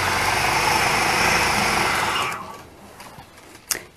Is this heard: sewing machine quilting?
yes